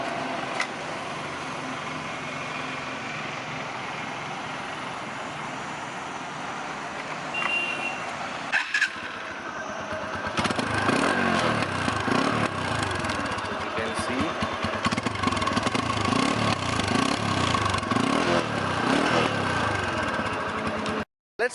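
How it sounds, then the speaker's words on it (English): TVS Apache RTR160 motorcycle engine and exhaust running steadily, a continuous rumble that grows louder and fuller partway through, as if revving or pulling away, with a brief dip before the louder stretch. "So everyone knows it has a pretty brilliant exhaust sound."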